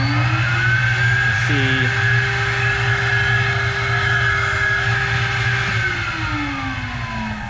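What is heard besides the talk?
machine measuring throttle body air leakage, CFM and velocity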